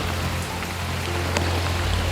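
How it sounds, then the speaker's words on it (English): Heavy rain pours down with a dense, constant roar that stays steady throughout, heard up close in an area prone to flooding. "in this kind of rain in this area, everything gets flooded out"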